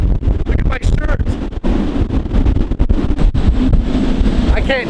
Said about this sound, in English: I can't convey to you guys how windy it is. It's so windy.